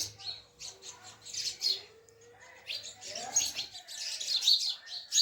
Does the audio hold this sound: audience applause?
no